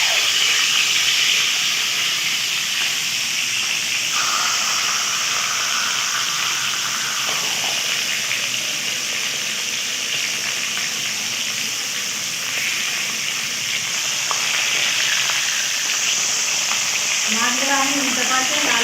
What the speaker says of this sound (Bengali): প্রথমে আমি কড়াইয়ের মধ্যে কাতলা মাছটা ভেজে নেব।